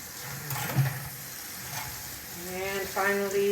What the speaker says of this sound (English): there's material that I want to try to rinse off as much as possible before I scrub